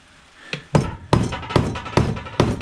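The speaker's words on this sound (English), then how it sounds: "That's usually where I use one of these wood chisels." A hammer striking a wood chisel to cut scrap copper and brass on a workbench: six sharp, close metallic blows at a fairly even pace, each ringing briefly.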